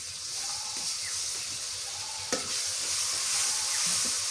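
Garlic paste sizzles in hot oil in a frying pan while it is stirred, a steady close hiss with soft scraping and a single sharp clink partway through.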